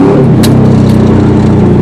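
A Pontiac Trans Am WS6 V8 revs loud and close, a deep steady growl with rising throttle bursts and no talking over it.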